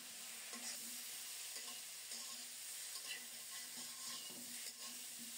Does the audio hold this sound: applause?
no